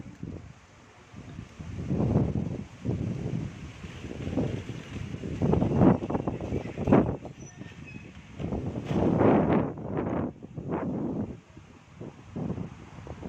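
Wind gusts buffet the microphone outdoors by Dishui Lake in China in irregular rushing bursts, rising and falling over a quiet background.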